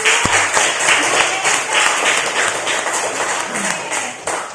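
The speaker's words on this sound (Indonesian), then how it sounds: "Oke, beri tepuk tangan." A group claps in a physics lesson on heat transfer, a fairly loud, continuous patter of hands with a few sharper individual claps standing out, running the full length without pause.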